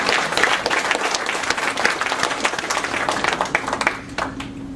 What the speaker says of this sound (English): I think they deserve a clap.